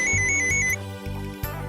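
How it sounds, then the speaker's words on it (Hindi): A phone rings with a bright electronic ringtone, a short repeating beeping melody over a steady low pulse, loud and close, cutting off partway through. "अरे एक मिनट, फोन।"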